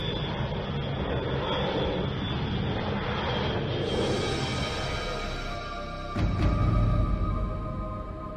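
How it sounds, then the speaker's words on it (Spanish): Small propeller airplane flying, a steady loud engine drone lasting several seconds that swells louder near the end, with no talk. "Ustedes viajarán en la avioneta."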